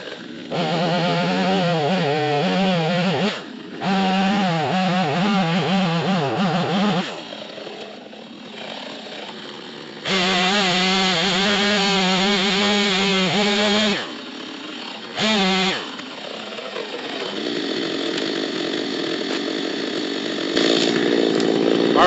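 A chainsaw cuts down small trees, its engine revving loud and close in long bursts that bog and whine under load, with brief drops to idle between cuts.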